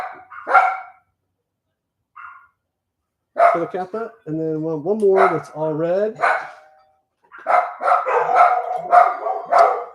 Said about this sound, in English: Oh, now they're all barking.